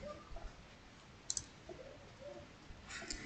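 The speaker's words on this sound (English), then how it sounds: "Now to sign up here, just click on this sign up" A computer mouse clicking on a website sign-up button: a quick, faint double click over quiet room hiss, then another soft click near the end.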